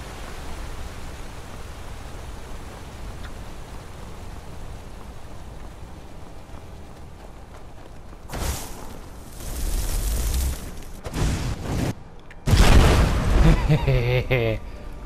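Destruction-spell explosions in the video game Skyrim, erupting as a few loud, broad bursts with deep rumbling booms in the second half, following a long stretch of low hissing ambience.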